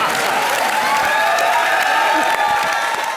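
A comedy-show studio audience applauds loudly and without pause, a dense roar of clapping mixed with cheering and crowd noise throughout.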